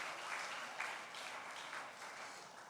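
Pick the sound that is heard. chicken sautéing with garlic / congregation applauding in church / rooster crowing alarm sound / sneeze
congregation applauding in church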